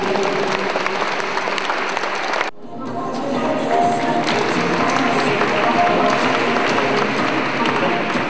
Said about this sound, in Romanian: Aplauze pentru toată lumea!